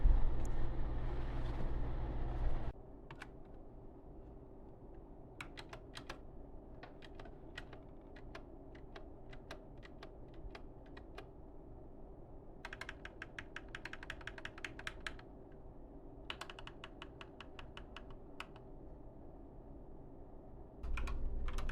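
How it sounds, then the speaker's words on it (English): Typing on a BOYI IK87 75% mechanical keyboard, close and clear: bursts of quick clicky keystrokes in irregular runs with pauses between, over a steady low background hum. "Actually, I am typing on this keyboard for the first time."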